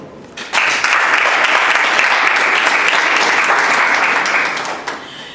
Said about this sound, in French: ce charmant public qui peut applaudir pour lui-même